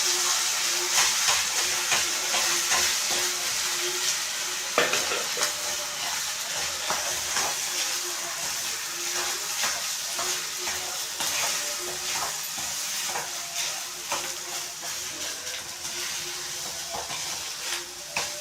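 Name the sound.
stirring hot mint rice with chilies in a pan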